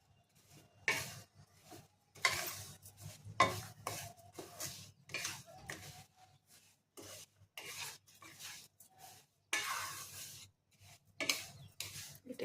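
Semolina being stirred in ghee for sujir halua, heard as repeated scraping, rasping strokes of a spoon in the pan, arriving in uneven bursts with short pauses between them and no voices.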